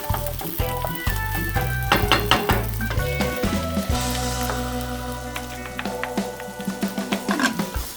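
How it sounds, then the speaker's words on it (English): Egg sizzling in a hot pan as it is stirred into instant cup-noodle fried rice, a steady crackling fry broken by repeated scraping and stirring strokes, close and moderately loud with no talk. "As the egg starts to solidify, keep stirring, mixing."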